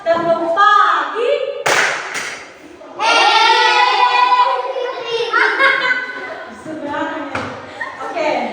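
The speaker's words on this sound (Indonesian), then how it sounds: "teman-teman diajak tepuk tangan" Elementary schoolchildren in an Indonesian classroom clap their hands in short rhythmic bursts, mixed with lively children's voices talking and chanting close by.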